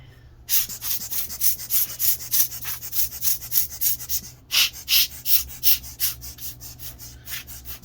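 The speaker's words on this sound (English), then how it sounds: "I'm going to blow the dust out of the fan here real quick" A small hand air blower puffs dust out of the fan of an HP Pavilion x360 14m-dh0003dx convertible laptop, giving a steady run of close, loud, rhythmic puffs about twice a second, with a brief pause midway and no speech.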